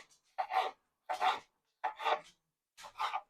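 Pet dogs pant in a home kitchen during microwave cooking, producing four slow, breathy rasping bursts at a steady rhythm, close and soft, with no talking.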